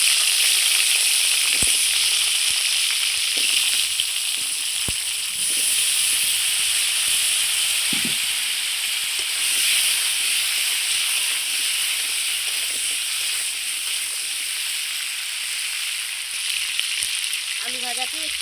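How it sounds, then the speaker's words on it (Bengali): Salted potato pieces for a Bengali fish curry frying in a pan over a clay stove, a strong continuous sizzle and hiss with occasional stirring knocks, up close and steady. "এবার আমি আলুগুলোও ভেজে নেব।"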